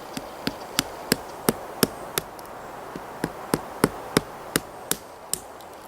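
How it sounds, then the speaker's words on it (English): Sharp stone strikes cracking a hard, thick pine nut shell, about fifteen crisp knocks at a steady pace, close and clear over a faint background hum. "I'm going to use a stone to crack the shell"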